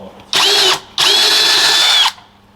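A power drill unscrews screws from wood-filled panels while converting a van's sleeping niche, giving two loud whirring bursts, the first short and the second longer, with a brief pause between.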